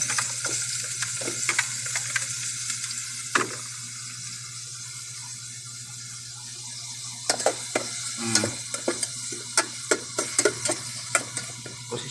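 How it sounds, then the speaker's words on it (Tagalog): Ginger sizzles in hot oil for Bisaya chicken tinola, a steady close frying hiss broken by sharp spoon scrapes and clacks that grow busier toward the end, with no voices. "Karon ako na ilunod ang luya."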